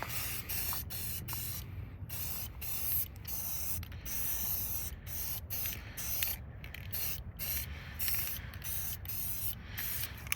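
Steady hiss of an aerosol spray can painting the back of an engine harmonic balancer, held on continuously with brief pauses between bursts, close and fairly loud.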